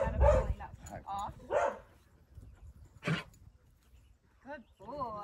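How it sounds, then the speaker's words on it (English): An excited dog barks close by in a quick burst of several yappy barks, followed by a short gap, one more sharp bark and then whiny, yelping cries. "So the barking is just excitement."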